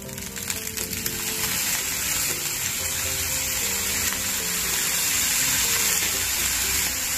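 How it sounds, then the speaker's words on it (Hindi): Water sprinkled over coconut rice in a hot pan sets off a steady, close sizzle and hiss that carries on throughout. "इस पर हम थोड़ा पानी छिटकेंगे।"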